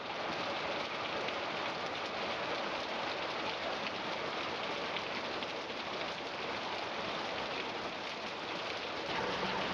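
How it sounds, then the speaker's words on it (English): Steady rain falls in Long Beach, California, a dense, even hiss of drops on outdoor surfaces that stays constant throughout with no voices over it. "I think it's doing some rain in here."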